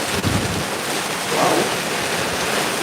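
Rain pouring down in Spanish Town, Saint Catherine, Jamaica, during Hurricane Melissa, a dense steady hiss of heavy rainfall with a brief gusty swell partway through.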